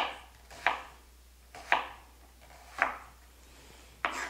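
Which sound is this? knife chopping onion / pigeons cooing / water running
knife chopping onion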